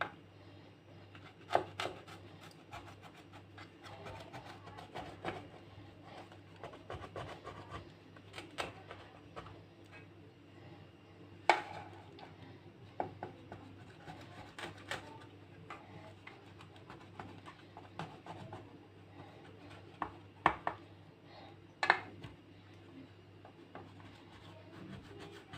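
Phyllo (gullash) pastry being cut in a baking tray, giving a run of quiet scraping ticks and taps at an irregular rhythm over a low steady hum, with a few sharper clicks standing out.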